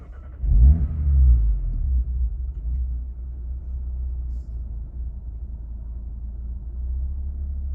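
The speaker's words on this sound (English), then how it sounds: "Let me try to turn on the car." An Audi RS3 with a Stage 1 ECU/TCU tune cranks and fires, flaring briefly in a loud rev before settling into a steady, low rumbling idle; no voices.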